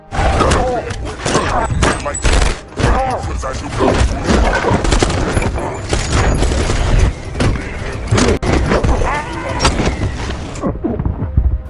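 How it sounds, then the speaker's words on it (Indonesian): Intense film gunfight with dense bursts of rapid gunfire, booms and thuds, loud and close, mixed with shouting voices and action sounds. "terjadilah baku tembak yang cukup sengit"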